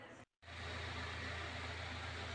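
An all-metal exhaust fan, zip-tied to a grille, runs with a steady loud whooshing drone and a low hum after a brief silent gap at the start.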